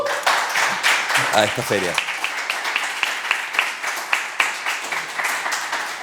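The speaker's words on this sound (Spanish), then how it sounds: "Un aplauso para ellos" Audience applause at a Chilean publishing talk at a book fair, welcoming artists and editors. Sharp, scattered claps continue for several seconds, briefly overlapped by a speaker's voice early on.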